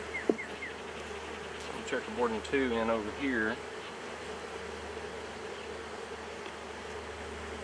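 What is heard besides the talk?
honeybees buzzing around a hive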